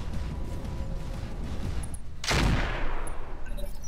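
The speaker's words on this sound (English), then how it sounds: "Shooting a turret." A turret under fire in the mech combat game Roguetech BattleTech, heard as a dense, steady wash of battle noise with a sharp loud burst of impact midway and faint high mechanical pings around it.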